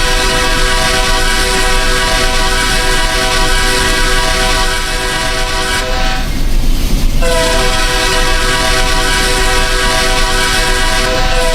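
Loud simulated train in the Run 8 railroad game rumbles past with a sustained, multi-tone horn blasting almost throughout, briefly interrupted in the middle by a burst of rolling wheel noise before the horn resumes.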